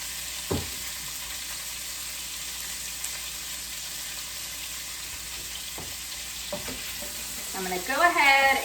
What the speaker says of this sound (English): I'm going to go ahead and get everything tossed in that fat. And I'm hoping to get a sear on all these vegetables.